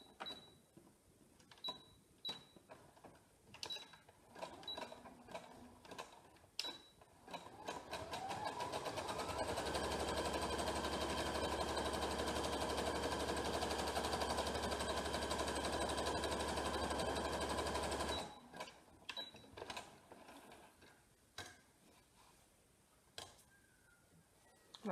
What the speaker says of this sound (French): va faire un point zigzag donc pour éviter que les fils s'effilochent